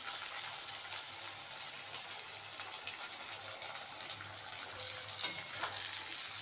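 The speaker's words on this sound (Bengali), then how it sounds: "রসুনের কাঁচা গন্ধটা যাওয়া অবধি আমি একটু ভেজে নেবো এটাকে" Garlic frying in a pan while cooking taro greens, a steady bright hiss of hot oil that holds even throughout, close up with faint stirring clinks and no voices.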